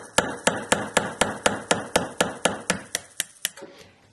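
A Gesswein MicroMotor hammer handpiece raps out a rapid, evenly spaced series of about fourteen sharp metallic taps, close and loud, before abruptly stopping.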